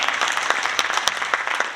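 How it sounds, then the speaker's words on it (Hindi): An audience at a business presentation in Delhi claps together in a brief, dense burst of applause with steady, close hand claps throughout. "इनके लिए तालियां बजा दीजिए"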